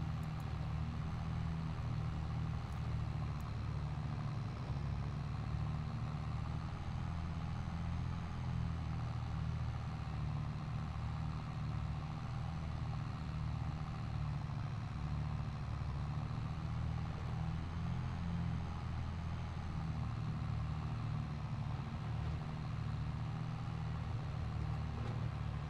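A tractor engine drives along in Farming Simulator 22 on the Haut-Beyleron map, giving a steady, low, unbroken hum at moderate level with no speech or changes in pace.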